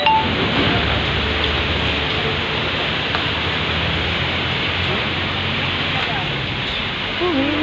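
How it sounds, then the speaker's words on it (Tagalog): Steady rain falls on a shop roof on a dark, cold afternoon, a dense continuous hiss and patter holding at an even, fairly loud level throughout, with no voices over it. "Maulan na naman sa bubong ng tindahan."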